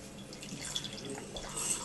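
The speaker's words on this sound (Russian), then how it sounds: "Значит, наливаем чашку 1/3 молока." Milk is poured into a cup to about a third full while making coffee with a coffee machine; a faint, soft liquid trickle close by, with no talking.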